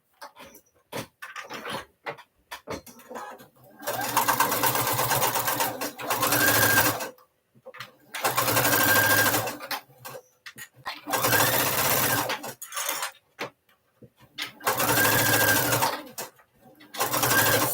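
Sewing machine stitching a custom ZAT, running in several bursts of steady whirring lasting a few seconds each, separated by short pauses with small handling clicks, close and clear.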